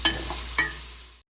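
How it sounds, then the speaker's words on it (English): Chopped onions cooking with bacon in a pot for bluefish chowder give off a close, steady sizzle, with two brief scraping stirs near the start before the sound cuts off abruptly. "The onions have been in there cooking with the bacon for just a minute."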